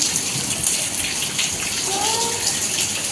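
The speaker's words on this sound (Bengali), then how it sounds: "বৃষ্টি পড়ছে হালকা হালকা" Light rain falls steadily outside, a soft continuous patter and hiss that stays even throughout, with no voices and a faint tonal sound briefly rising in the middle.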